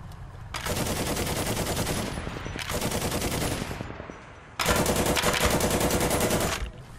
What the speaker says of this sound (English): you can independently move your machine gun on some tanks